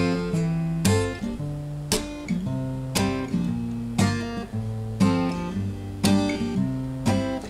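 Acoustic guitar strumming the chords of a song at full speed, with a bouncy, regular rhythm of about one accented strum per second and lighter strokes between, played alone without talk.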